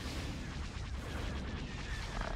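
Dense, continuous barrage of laser fire during a space battle in the Star Wars Empire at War video game, loud rapid volleys and booms blending into a constant roar with no voices.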